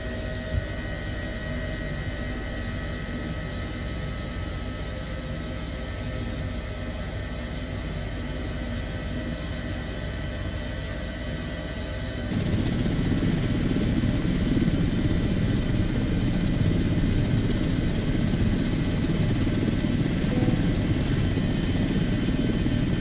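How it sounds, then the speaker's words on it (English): An Airbus H145 helicopter engine starts up in Microsoft Flight Simulator. A steady turbine whine and hum suddenly steps up into a louder, fuller roar partway through and holds constant. "So we've got 2 good engine starts."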